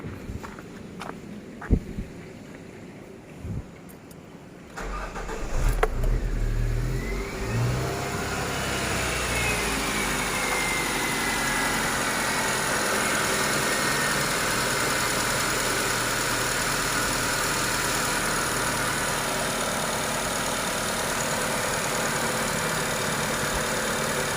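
An HR16DE engine in an ex-taxi Nissan Latio cranks and fires after a few handling clicks, briefly revving, then settling into a steady, smooth idle that runs close and constant for the rest of the span.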